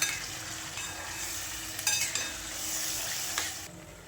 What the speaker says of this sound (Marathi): आता याच तुपामध्ये मॅश केलेले गाजर टाकूया। आता याला परतून घेऊया।